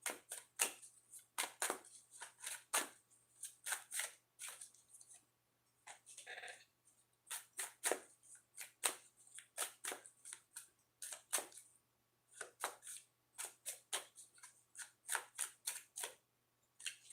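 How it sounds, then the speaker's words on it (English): Tarot cards are shuffled in repeated quick riffling bursts separated by short pauses, close and crisp against near silence. "I'm going to shuffle some more"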